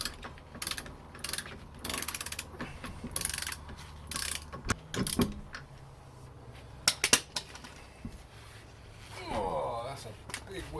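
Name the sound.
removing Porsche wheels from VW T4 camper van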